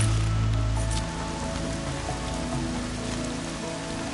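Steady rain in the video game Horizon Zero Dawn patters on surfaces throughout, a dense hiss with a low rumble fading early on, no voices.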